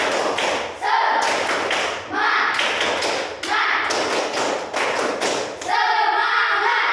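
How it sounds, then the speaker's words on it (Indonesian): A group of children join in a rhythmic spirit-clapping routine in class, patterned bursts of claps and taps with short pauses between phrases, with voices chanting along. "Semuanya tepuk semangat."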